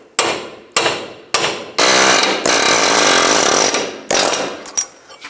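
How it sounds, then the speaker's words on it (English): Three sharp, ringing metal hammer blows on a pickle fork separating a ball joint from the knuckle of a Nissan Xterra, then a loud sustained rattling pounding, with a few more strikes near the end. "Now I'm going to separate the ball joint from the knuckle. I'm going to use a pickle fork to do this."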